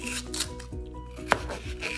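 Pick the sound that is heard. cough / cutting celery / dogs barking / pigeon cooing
cutting celery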